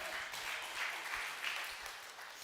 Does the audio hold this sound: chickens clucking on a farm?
no